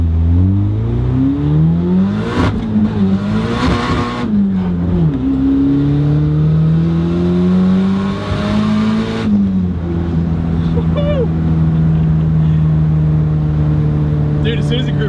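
A car accelerating hard during a ride-along, the engine note climbing and falling through revs in loud close surges, with occasional shouts from occupants inside the cabin.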